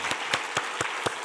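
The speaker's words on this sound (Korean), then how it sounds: "우리 서로 고생했다고 박수 한번 하십시다" A church congregation at an evening revival meeting claps in a few slow, distinct, evenly spaced beats, five sharp strikes in unison with near silence between them.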